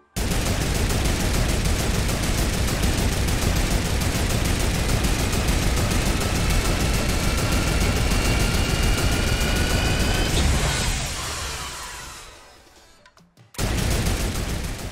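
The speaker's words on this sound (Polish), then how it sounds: "to działko ma nieograniczoną ilość amunicji, ale aby powstrzymać nas strzał strzelania, może się przegrzać" A turret gun in the video game Fortnite Battle Royale fires nonstop in a loud, rapid burst with a rising whine, then cuts off and fades near the end before a brief final burst of fire.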